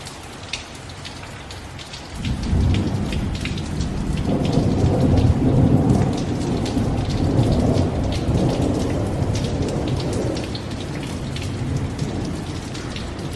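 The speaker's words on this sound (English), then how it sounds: "Man, I love to hear thunder." Rain falls steadily in Columbus, Mississippi as thunder rolls in after a couple of seconds, rumbling loud and long before slowly fading under the continuing downpour.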